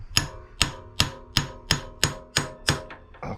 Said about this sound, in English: This thing kind of gives a twisting motion as you hammer.